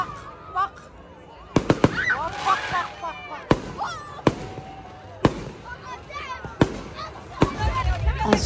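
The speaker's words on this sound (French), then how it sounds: "Ensuite, vers 23h30, il y a eu les feux d'artifice." Fireworks explode at night, several sharp, loud bangs spread apart with crackling and whistling between them. People talk and call out beneath and between the blasts.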